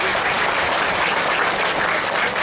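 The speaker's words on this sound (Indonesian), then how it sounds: "Tepuk tangan buat neneknya di sini." An audience at a smart parenting event at an Islamic boarding school in Palembang applauds a grandmother, a dense and steady wash of many clapping hands that continues throughout.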